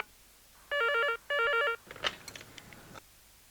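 A phone rings in two short electronic trilling bursts, followed by a brief clatter and faint rustling, with no one speaking.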